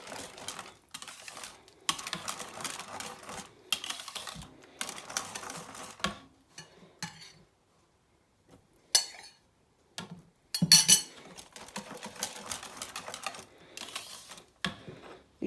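Couscous mixed with dried fruit in a bowl, making rapid light clicking and scraping in several bursts separated by short pauses, close and fairly soft.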